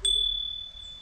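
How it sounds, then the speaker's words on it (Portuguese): A single bright ding from a playground bell, struck once and left ringing in a thin, sustained tone that slowly fades. "Toca o sino. Toca o sino."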